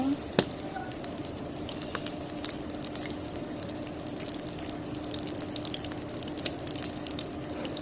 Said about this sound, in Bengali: তেল দিয়ে দিলাম এখন পেঁয়াজ দিয়ে দিব